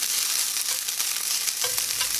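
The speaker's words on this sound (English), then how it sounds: "I'm going to let this brown up a little bit more" Ground beef substitute browning in a hot pan, a steady close sizzle and crackle with faint stirring scrapes throughout, no voices.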